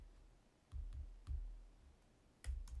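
Mouse clicks while zeroing printer margins for an Epson ET-2803 set up for sublimation, with several sharp, quiet, isolated clicks spaced irregularly over a faint hum.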